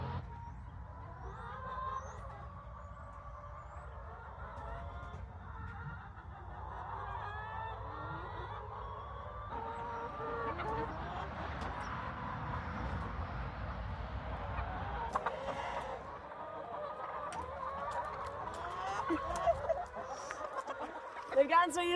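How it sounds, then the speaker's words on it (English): Chickens released from a winter coop on a small Indiana homestead cluck and chatter steadily at middling distance, with soft calls and occasional louder squawks over a low background hum. "let's let these chickens out"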